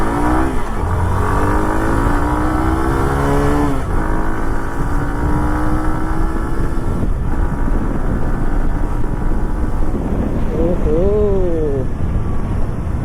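A Hero Glamour Xtec 125cc motorcycle pulls away in first gear and accelerates, its engine note rising steadily through several upshifts and climbing again near the end, loud and continuous with wind noise throughout.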